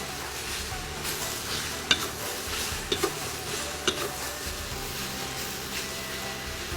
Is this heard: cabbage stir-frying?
yes